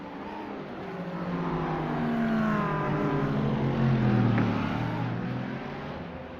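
GT3 race cars running nose to tail at Spa-Francorchamps, three or four in a line, their engine notes swelling and fading as they pass at a distance, with no voices over them.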